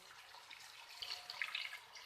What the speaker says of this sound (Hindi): तो चलिए फिर पानी शामिल करते हैं।